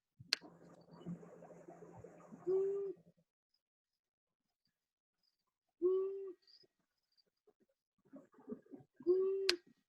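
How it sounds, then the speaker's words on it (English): Low hooting calls of a long-eared owl, a single soft hoot repeated a few times with pauses, over faint rustling background noise. "So this is what a long-eared owl looks or sounds like."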